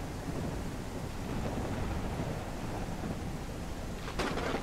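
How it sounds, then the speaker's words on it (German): Dense, loud rain pours steadily in the video game Mist Survival, with a low thunder rumble underneath and a sharp crack near the end. "Kann das mal bitte jetzt aufhören mit dem Regen und mit dem Gewitter?"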